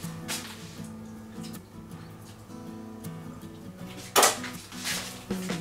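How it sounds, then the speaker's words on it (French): Big serving spoon clinking and scraping against a dish of béchamel sauce while layering goat cheese and spinach lasagne, a few clear metallic knocks among softer handling sounds, close by with no talking. "donc je vais prendre une plus grosse cuillère"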